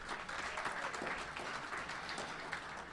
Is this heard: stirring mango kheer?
no